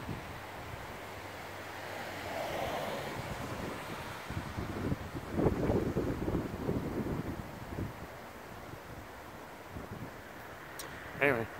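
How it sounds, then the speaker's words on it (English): Gusty wind on a blustery day buffets the microphone outdoors in low rolling surges that swell and fade, with someone speaking briefly over it. "Windy day."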